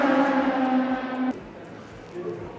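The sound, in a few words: Nissan race cars driving on track at NISMO Festival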